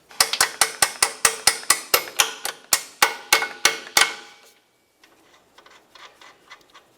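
A hand ratchet clicks in a quick, even run of about fifteen sharp ticks as it tightens a mounting nut on a leveling kit differential bracket of a 1994-2002 Dodge Ram 2500, then goes quiet apart from faint, softer clicks.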